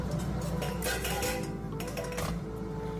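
A spoon scrapes and clinks against a pot of curry during stirring, followed by the clatter of a lid set on top. The metallic sounds are close and continuous, with a steady background hum.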